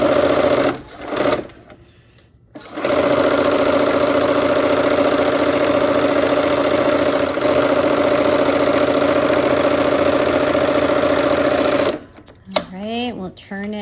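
A sewing machine runs in a long, steady whirring stretch while stitching a quilt block seam, close and loud after a brief start-stop, then halts as a voice begins talking.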